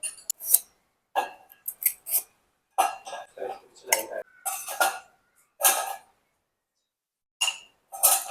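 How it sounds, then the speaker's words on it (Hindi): Glasses are set into a dishwasher rack one after another, giving sharp, close clinks and knocks in irregular bursts separated by short silences. "मैंने यहाँ पे ग्लासेस डाल दिए हैं"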